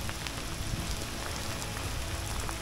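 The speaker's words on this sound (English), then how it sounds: "a beautiful day turned into hail with flowers" Hail pelting down during a countryside walk along Italy's Via Francigena near Aquapendente, a dense continuous patter of hard pellets striking the ground and surroundings close by, loud and unbroken.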